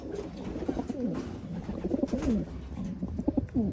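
Black velvet racing pigeons coo close by in a string of soft, throaty, warbling calls that rise and fall repeatedly over a faint background hum.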